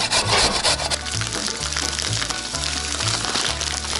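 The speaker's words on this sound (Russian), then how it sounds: "набираем морковочку на терке." Repeated rasping scrapes of a carrot being grated, rhythmic back-and-forth strokes over a low musical bed.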